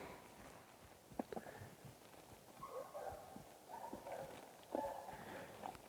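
Horse hooves step slowly and unevenly on the ground during a groundwork session, a few soft scattered clops against a faint outdoor background with no talking.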